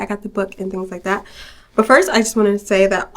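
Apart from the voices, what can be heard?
None of the usual background noises is heard.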